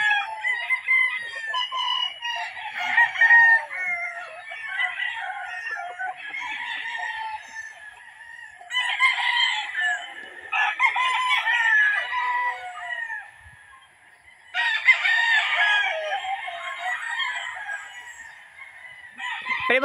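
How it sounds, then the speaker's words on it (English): Pure Red Kelso gamefowl battle stags on a game farm in Tanay, Rizal crow and cluck loudly and close, with several overlapping calls and brief pauses between bursts and no talking. "Pero magkaroon pala battle stag ni Sir Bibo?"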